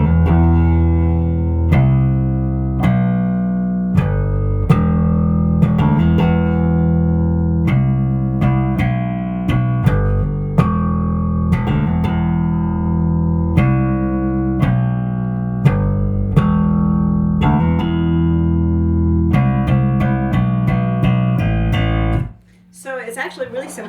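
A dark, simple bass guitar line for a song, played as steady repeated low notes with a sustained, moody feel, loud and alone without any voice until a brief pause at the very end.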